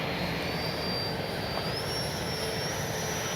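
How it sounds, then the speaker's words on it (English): An E-flite 64mm Viper RC jet flies past with flaps fully down, its electric ducted-fan whine a steady, loud roar throughout, with a thin high tone rising in pitch partway through. "And that's a jet."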